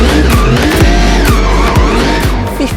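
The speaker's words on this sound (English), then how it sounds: "he's out there manipulating that drift car, that BMW, into doing exactly what he wants it to do" A BMW drift car at a night drift training session skids hard, its tires squealing in wavering, rising and falling screeches over a loud, rough engine roar, close and continuous.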